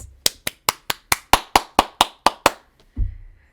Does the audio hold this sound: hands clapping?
yes